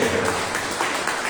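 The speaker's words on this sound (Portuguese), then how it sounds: "Olha mais uma linda salva de palmas para Jesus" A church congregation gives a warm round of applause for Jesus during a worship service: a dense, steady wash of clapping from many hands, fairly loud and continuous, without a break.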